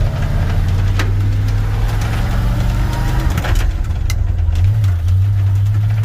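An old truck engine with a warped clutch disc runs loud and close, a steady rough low drone with knocking texture and a brief shift in pitch near the end.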